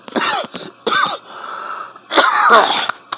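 Several harsh, close coughs come in bursts separated by brief pauses, loud and with no talking.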